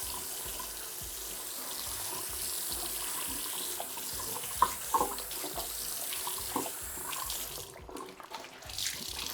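A cloth is rinsed under a running tap at a bathroom sink: a steady hiss of flowing water with small splashes and handling noises, close by, briefly easing toward the end.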